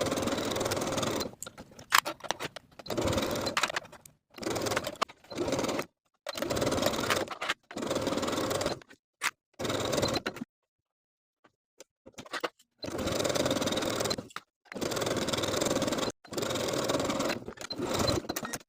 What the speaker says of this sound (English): we're going to sew the armhole twice. First with a 5/8 inch seam allowance and a narrow zigzag stitch.